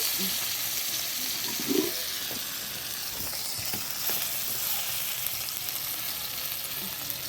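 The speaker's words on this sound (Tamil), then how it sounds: "அந்த இப்போ மீன் போட்டுக்கலாம். எண்ணெய் நல்லா காஞ்சிச்சு." Rock fish fries in well-heated oil, a continuous moderate sizzle and crackle with a few small pops, steady and close.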